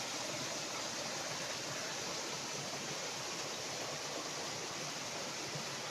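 Clear spring water running down a stream near its source in the Konkan hills of Sindhudurg, a soft, steady rushing wash with no breaks and no voices.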